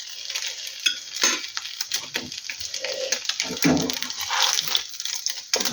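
Lavash envelopes coated in batter frying in oil in a pan, a continuous close sizzle broken by clinks and scrapes of a utensil against the pan, with no talking.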